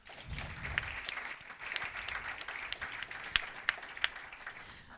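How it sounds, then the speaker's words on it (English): Audience applause at a panel event on the rise of left politics in Europe, a moderate steady clapping that fills the clip, with a few sharper individual claps standing out near the end. "So let's give her a round of applause."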